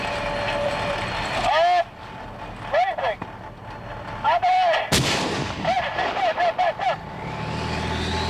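Tank guns of an armour unit fire practice rounds on a live-fire gunnery range, heavy booming shots at irregular intervals over rumbling vehicle noise and radio chatter.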